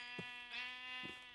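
Two sheep bleats in a video game, each a short nasal cry at moderate volume, spaced about a second apart over a steady, tonal game backdrop with no talking.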